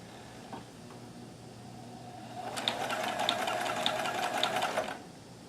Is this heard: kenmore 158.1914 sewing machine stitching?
yes